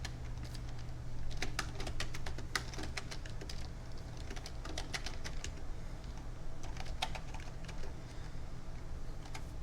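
Keys clatter on a computer keyboard as data is entered, quick irregular bursts of clicks with short pauses, close and fairly quiet, with no voices.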